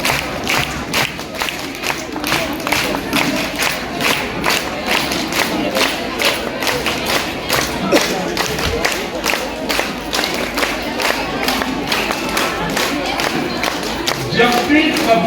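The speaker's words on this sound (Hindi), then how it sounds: "सभी से निवेदन की तालियां बजाकर मुख्य अतिथि महोदय का स्वागत करें।" An audience at a government campaign launch event in Nirmand block claps to welcome the chief guest, with crowd noise and scattered voices running under the applause for about fifteen seconds.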